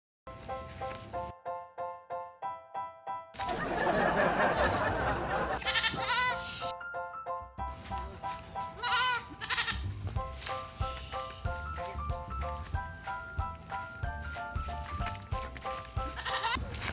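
A goat bleats in a long, wavering cry amid a busy comedy soundtrack, with repeated electronic music notes and brief breaks of silence before and after it.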